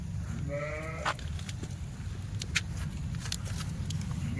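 A Kathewadi goat gives a single clear bleat close by, followed by shuffling hooves and rustling over a constant low rumble of background noise.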